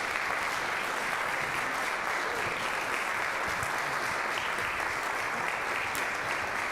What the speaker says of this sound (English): What a round of applause for our Dean.